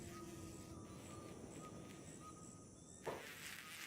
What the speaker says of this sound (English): the mod that forever gets rid of the flies buzzing noise